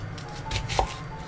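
Kitchen knife chopping chicken on a cutting board while preparing a Japanese make-ahead dish, a few quick close knife taps.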